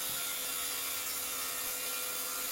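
A hand saw cuts wood in a converted van workshop, a steady rasping stroke noise that continues without a break for the whole stretch, fairly faint and alone with no talk.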